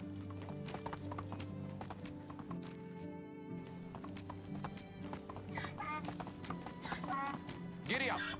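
Horse hooves clip-clopping in the medieval survival game Medieval Dynasty, a steady rhythmic trot over game music, with a whinny near the end and a person talking.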